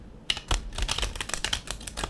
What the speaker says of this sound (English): I'm gonna riffle shuffle, and then we're gonna just draw one card for us today.